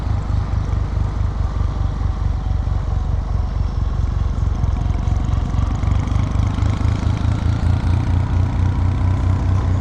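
A Kawasaki W800 motorcycle with its stock exhaust runs steadily, giving a low, even, pulsing engine thrum that stays consistent and fairly loud throughout, with no voices over it.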